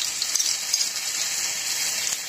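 Ginger and garlic paste fry with browned onions for a dhaba-style egg tarka, a steady bright sizzle with a few crackling pops, close and fairly loud.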